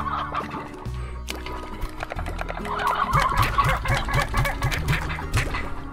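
Chickens in the video game Slime Rancher cluck and gobble repeatedly in quick bursts, loud and close, layered over a continuous game background.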